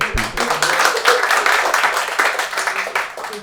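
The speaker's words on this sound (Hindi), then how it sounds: "गिव मैम की ताली बजा" A stand-up comedy crowd claps and cheers, a loud, dense wash of applause from many hands close to the stage, steady and sustained across the whole stretch.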